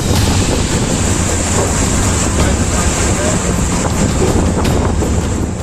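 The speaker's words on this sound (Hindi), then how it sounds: "समुद्र की तेज लहरों की टक्कर से जब बोट में पानी तेजी से भरने लगा" Strong sea waves slam into a boat and wash water aboard, a loud continuous roar of surf and rushing water buffeted by heavy wind on the microphone.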